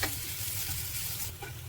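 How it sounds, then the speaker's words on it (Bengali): Onions frying in hot oil for a hotel-style aubergine mash, a close, steady sizzle with light stirring scrapes. "এবার আমি পেঁয়াজটাও ভেজে নেব এইভাবে করে।"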